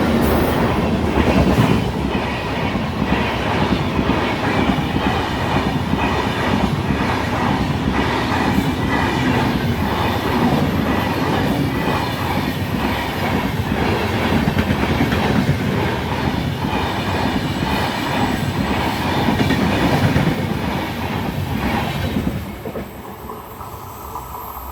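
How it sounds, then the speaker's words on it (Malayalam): A passenger train of 24 coaches hauled by a WAP-7 electric locomotive in Kerala rushes past close by, a loud, steady roar with rhythmic wheel clatter and faint squeals lasting over twenty seconds before suddenly dropping away as it clears. "ജസ്റ്റ് സെക്കൻഡ്സിനുള്ളിൽ തന്നെയാണ് നമ്മളെ ട്രെയിൻ ക്രോസ് ചെയ്ത് പോയിരുന്നത്"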